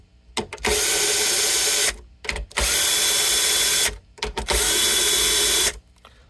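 A Bosch power drill with a 10mm socket unscrews nuts from a Blueridge BR-40 guitar in three loud, close bursts of whirring with clicking and ratcheting between them.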